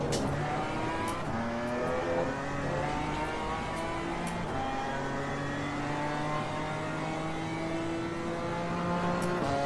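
A BMW M4 GT4 race car engine revs and climbs through the gears on track, a steady close drone whose pitch rises and falls over nearly ten seconds.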